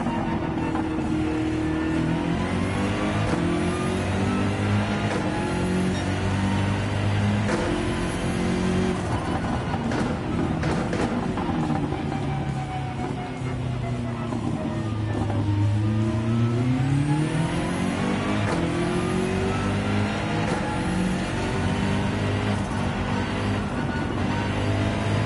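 A race car engine in Gran Turismo drones continuously at close range through a lap, its pitch sliding up and down with throttle and gear changes, with a deep dip and climb partway through and no breaks.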